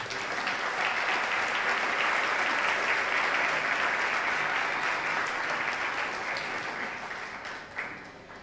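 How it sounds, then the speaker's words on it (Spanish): Church congregation applauding after a pastor's sermon, a dense sustained wash of many hands clapping that holds steady, then thins and fades near the end. "Denle un aplauso a Jesús por ello."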